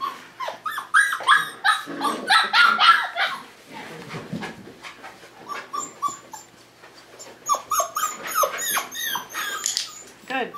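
Tamaskan puppies bark, yip and whimper in quick high-pitched bursts at close range during a box game, with a person's voice speaking softly among them.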